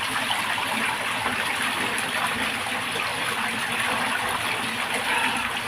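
A clear, cold, free-flowing stream rushes steadily and close by, a dense, even gush of water with no pauses and no voices.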